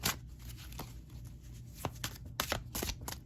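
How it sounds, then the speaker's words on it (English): Dice rolled during a weekly tarot pick-a-card reading give a few sharp clattering knocks, the loudest bunched near the end, close by over quiet room noise with no talking. "we're going to roll the dice here"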